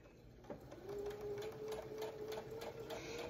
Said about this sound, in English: for the shoulder, I tend to just use a straight stitch.